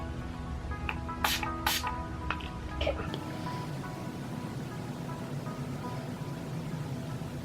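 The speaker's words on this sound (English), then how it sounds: "I'm just going to spritz it with some setting spray." Two or three quick spritzes of makeup setting spray onto a brush, close by, followed by a steady low hiss of background noise.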